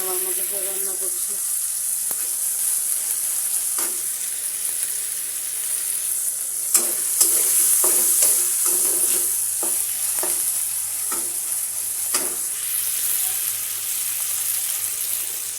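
Vegetables for a home curry sizzle in a pan as a utensil scrapes and stirs them in irregular strokes, the frying hiss steady and moderately close, with faint bits of voice.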